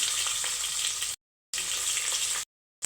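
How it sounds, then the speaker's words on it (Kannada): Mustard seeds, cumin and garlic frying in a spoonful of oil for moong dal sambar, a loud close sizzle in two bursts broken by short silences. "ಸ್ಪೂನ್ ಆಗೋಷ್ಟು ಎಣ್ಣೆ ಹಾಕ್ಕೊತಾ ಇದ್ದೀನಿ ಇದಕ್ಕೆ ಸಾಸಿವೆ ಜೀರಿಗೆ ಬೆಳ್ಳುಳ್ಳಿ"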